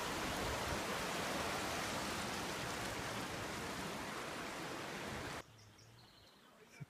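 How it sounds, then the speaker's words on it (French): A waterfall seen from its top near a mountain lake at Pucón, Chile, roars as a loud, dense, steady rush of falling water, then cuts off abruptly near the end to a quiet background with faint birdsong. "On est en haut de la cascade là."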